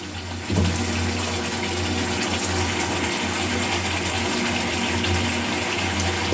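Cooked roast and its oil are poured out of a pan, a close, steady gushing and sizzling wash of sound that holds evenly for several seconds.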